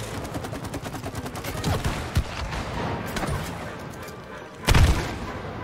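Rapid gunfire from shooting in the video game It Takes Two, dense bursts of shots with a heavy boom near the end, under faint talk.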